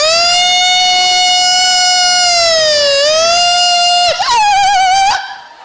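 A single voice imitates a VIP convoy siren, holding a long steady wail, dipping and rising around the middle, then breaking into a quick warbling yelp before cutting off. Loud and close, with no other sound.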